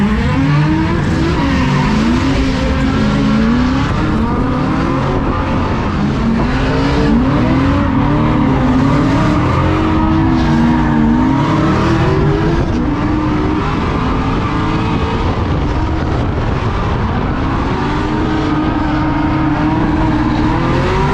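Cadillac CTS-V drift cars at FuelFest Tampa skid around the track, tires squealing loudly as engines rev and rise in pitch, a continuous close roar of several passes with no talk.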